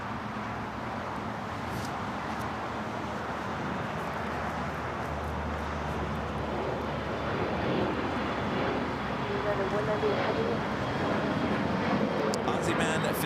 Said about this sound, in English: United Airlines Flight 198 heading to Shanghai in the 787-9 Dreamliner. Next heavy takeoff here on the south side.